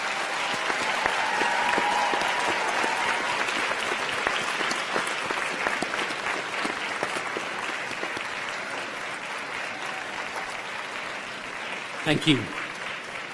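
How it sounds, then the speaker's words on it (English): Graduation ceremony audience in a large hall gives sustained, dense applause at steady loudness, with a brief spoken thanks near the end. "give them a phenomenal round of applause for the support you've been given"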